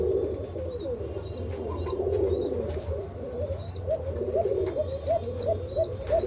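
Egyptian Kishk pigeons coo softly and repeatedly at close range, their low rolling calls overlapping against a faint background hum and a few light chirps.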